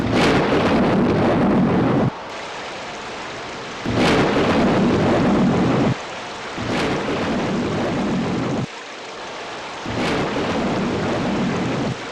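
Thunder rolls through torrential monsoon rain pouring down a mountainside, a dense steady roar of downpour swelling with repeated loud rumbling peaks every few seconds, with no voices.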